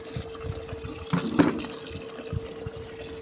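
Tap water running and splashing as containers are filled at a household tap early in the morning, a moderate steady flow with a few louder splashes, heard alone without talk.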